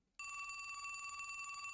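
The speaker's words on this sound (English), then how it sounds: "the room's phone abruptly begins to ring" A telephone bell rings in a room in the Labyrinth of Grisaia visual novel, starting abruptly after a moment of silence and continuing as a loud, steady electronic trill with no one talking.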